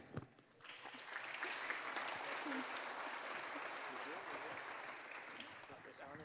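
At a red carpet mayor's education awards ceremony, an audience breaks into applause for honorees, a sustained wash of many hands clapping that swells after a brief start and holds steady, with faint voices underneath.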